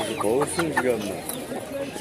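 Turkey and other poultry at a bustling poultry market, with soft clucking and gobble-like calls mixed into crowd noise while people talk nearby.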